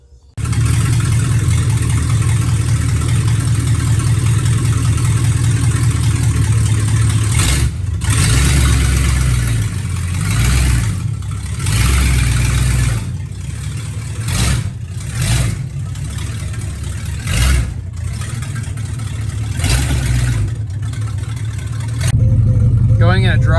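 A 1972 Imperial's engine runs steadily throughout, a loud, close mid-pitched drone that rises and dips as the car is driven around town after sitting 41 years, with road noise underneath.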